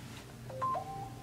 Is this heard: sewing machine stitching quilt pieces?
no